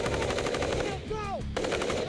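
Rapid machine gun bursts of suppressing fire in a war film battle scene, loud and close, with a brief lull in the middle before the firing resumes.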